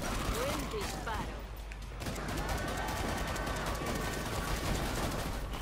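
Rapid gunfire from the shooter video game Killing Floor 2, a dense, continuous burst of overlapping shots that stays loud and busy throughout with no pauses.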